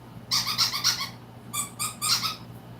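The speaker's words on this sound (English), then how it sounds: "You like the squeaky noise?" A squeaky squirrel-shaped toy squeaks in two quick bursts, first a run of three or four rapid squeaks, then after a short pause another three, close and fairly loud over a low background hum.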